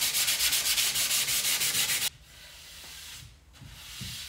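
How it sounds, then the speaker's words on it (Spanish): A rag wetted with clear, water-based matte varnish rubs over sanded wooden panels in rapid, rhythmic back-and-forth strokes for about two seconds, then stops, leaving a few faint scuffs and handling noises. "La primera capa la he dado con un trapo humedecido en barniz."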